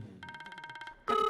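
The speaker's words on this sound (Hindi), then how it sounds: "लगता है तेरी सास का फोन है।" A telephone bell rings in a rapid trilling burst for about a second, then a second louder ring begins, fairly close with no talking.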